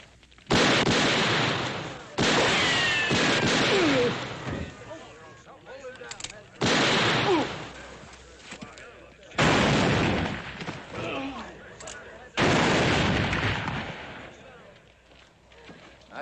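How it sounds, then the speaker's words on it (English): Gunfire in a western shootout: five loud, close bursts of shots, each with a sharp onset and a ringing echo fading between them, spaced a few seconds apart with no voices over them. "That's enough shooting."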